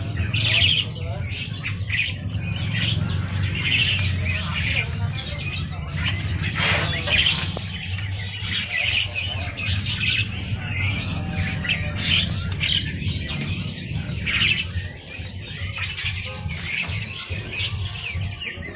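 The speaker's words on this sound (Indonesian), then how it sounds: "Burung murai batu diombyok kayak burung pleji" A white-rumped shama (murai batu) sings with bright, busy chirps and trills, repeated throughout over a steady low hum and background noise, fairly close and clear.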